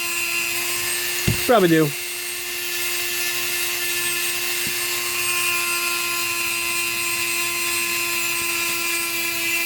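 A Dremel rotary tool whines steadily at a high pitch while sanding and polishing the magwell of a Daytona gun, with a brief spin-up sweep near the start and someone talking briefly over it.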